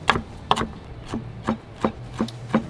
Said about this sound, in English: We're gonna give this just a nice rough chop.